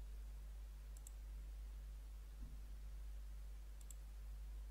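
Two quick pairs of faint mouse clicks, a few seconds apart, tap through a software installer on a computer, close and crisp over a low steady hum.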